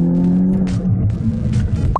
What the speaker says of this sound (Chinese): 排气管的声音很好听哦